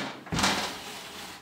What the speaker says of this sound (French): Les tiroirs sont hyper lourds.